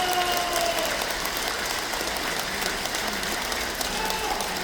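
A hall audience at a keynote lecture for a Korean association applauds in one dense, steady wash of clapping that holds evenly for the whole stretch, with no voices standing out.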